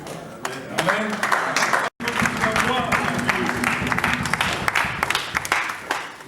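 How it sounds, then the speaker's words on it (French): A church congregation at a thanksgiving service in Lille applauds, a dense, continuous wash of clapping from a large crowd with voices mixed in throughout, briefly cut off near the start. "On ne refuse pas les applaudissements"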